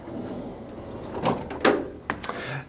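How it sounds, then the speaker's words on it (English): The paper drawer of an HP DesignJet XL 3800 large-format printer is pulled open, giving a few close sliding and clunking knocks, with a louder thump near the middle and several sharp clicks toward the end. "squeeze the handle inside and then pull the drawer open"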